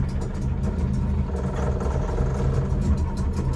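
A Suzuki LJ20V with a two-stroke engine runs at a steady, close idle while warming up from cold, a continuous engine drone with no talking.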